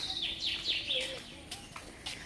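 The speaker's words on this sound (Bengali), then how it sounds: "পাখির ডাক শুনতে পাচ্ছি কানে," Birds chirp with quick, high whistled calls at a quiet temple ghat in Sodepur, fairly faint, with a soft background hiss.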